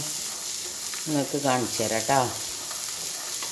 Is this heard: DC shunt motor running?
no